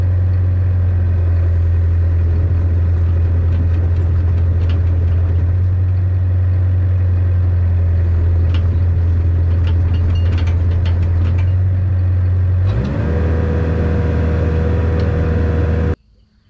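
Excavator with a hydraulic tracking fault rumbling as it travels forward, a loud steady engine drone with hydraulic travel motor whine that shifts higher near the end before cutting off abruptly.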